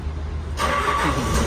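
A backhoe engine cranks and catches, rumbling into a steady idle after a quiet stretch with a low hum in the background.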